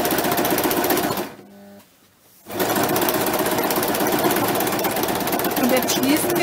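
A sewing machine stitches layered felt pieces for a DIY felt basket, a loud, steady mechanical whir that pauses briefly mid-run, then resumes at the same close, even pace.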